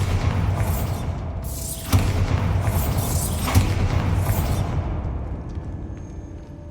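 Bombarda blasting spell from a video game, heard as a few deep booming explosions with sweeping whooshes, loud and roomy, the last one fading into a rumbling tail.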